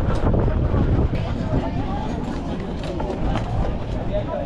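Steady wind gusting across the microphone at a waterside park on the Tokyo bay shore, a loud continuous rumbling buffet that persists throughout with no clear pauses.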